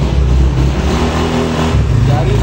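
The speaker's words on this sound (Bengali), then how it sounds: "গাড়ির সাউন্ড" A rebuilt Loncin GP motorbike engine, freshly serviced, runs loud and close, with a steady revving drone and engine harmonics that shift in pitch slightly.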